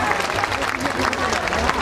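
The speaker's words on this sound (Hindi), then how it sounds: "तो एक बार जोरदार तालियां" An audience claps loudly and steadily at a school annual day event, a dense sustained crowd applause that continues without a break.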